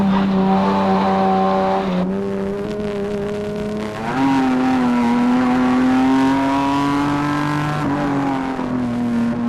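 Jaguar racing car engines, including a V12, drone and rise in pitch as they accelerate at Cadwell Park, a loud, sustained mechanical whine with gear shifts, close by.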